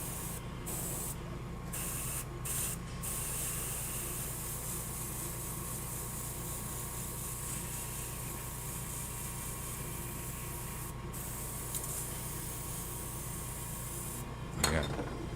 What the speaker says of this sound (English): this is what happens when you have a dirty airbrush